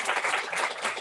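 Brief burst of dense audience applause at a Nobel Laureate seminar livestream, many hands clapping steadily with no pauses.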